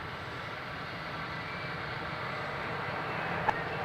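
A Singapore Airlines Dreamliner arrives at Adelaide Airport, a steady, distant engine rumble holding evenly with a single brief click near the end.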